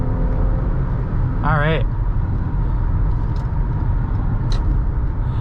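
Inside a 2018 Toyota Highlander XLE accelerating onto a highway, a steady low engine and road rumble fills the cabin, with a brief spoken phrase early on.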